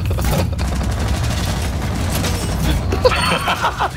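Heavy, continuous gunfire in the tactical shooter Rainbow Six Siege, loud and dense throughout, with a few sharper impacts and crashes near the end.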